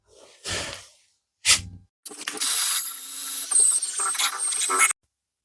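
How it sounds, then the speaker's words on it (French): Car bodywork being sanded by hand around a small rust spot: two short scraping strokes, then about three seconds of steady, close, loud abrasive rasping that stops abruptly. "On va poncer un petit coup."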